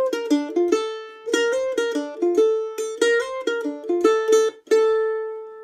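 Mandolin picking a melody straight on the beat, clear bright plucked notes in short even phrases, solo and close with no talking.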